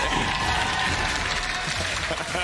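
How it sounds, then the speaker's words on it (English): Crowd applause at an LEC esports match keeps up a dense, steady wash of clapping and noise from start to end, with voices mixed in. "the clap for everything Trick does"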